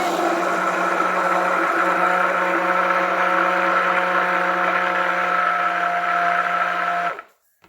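An electric mixer whirs steadily through thick batter, a loud close motor drone holding an even pitch for several seconds before cutting off abruptly.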